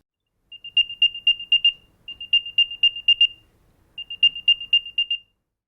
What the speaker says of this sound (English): the AirTag itself, although very tiny, does also have a built-in speaker. So you can play a nice high-pitched sound